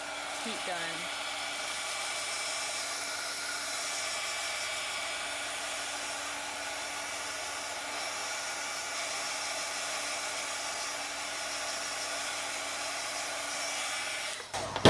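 A heat gun blows a steady, airy roar as shrink wrap is shrunk around a bar of soap, continuous and close for the whole stretch before cutting off abruptly.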